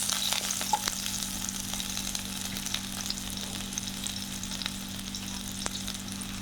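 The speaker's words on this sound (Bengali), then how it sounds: "দিয়ে দিব পেঁয়াজ কুচি। হালকা করে লেগে করে পেঁয়াজটা লাল লাল করবো।" Chopped onions fry in a pan with a steady, continuous sizzle and crackle, close and even throughout, with no talking.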